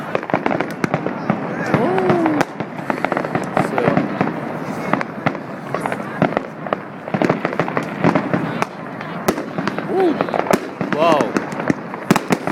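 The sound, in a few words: fireworks exploding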